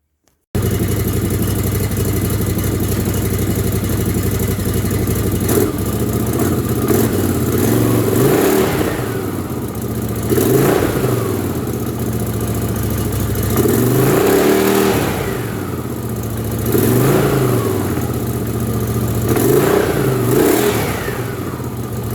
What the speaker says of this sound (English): so I started the bike up, just let it run for a minute